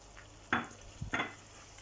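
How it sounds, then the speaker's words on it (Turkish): Corn flour being stirred into melted butter in a pan for kuymak, two short scraping stirs with a soft sizzle, close and brief against near silence. "Şimdi mısır unumuzu koyuyoruz."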